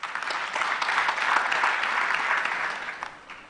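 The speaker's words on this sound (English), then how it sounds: "A round of applause for him." Steady applause from an audience at a formal customs service event in Nigeria, greeting a royal guest, dense and continuous, holding full for several seconds before tapering off.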